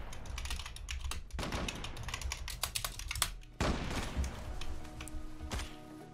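Fast, close typing on a computer keyboard comes in bursts of sharp clicking keystrokes with short pauses between runs, alongside the sounds of an online shooter game.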